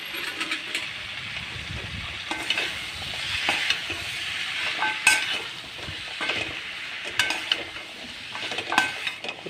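Red pumpkin, vegetables and tomato sauté in a hot pan, giving a steady sizzle broken by repeated scraping and clinking stirring strokes, with no talking.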